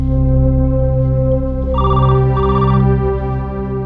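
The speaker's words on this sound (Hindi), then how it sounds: "इस वक्त किसका फोन हो सकता है?" Telephone bell ringing indoors in a home during a TV drama scene, two short ringing bursts over a steady low hum and background music, fairly loud and close, with no talking.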